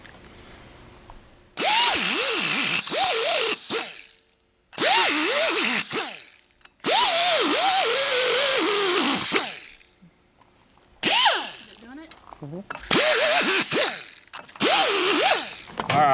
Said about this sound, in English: I've got a sanding disc on an angle grinder.